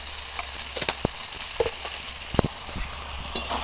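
Spices with chilli powder frying in fish oil for a pumpkin stem chorchori, a steady sizzle punctuated by several loud scraping stirs in the pan, close with no talk.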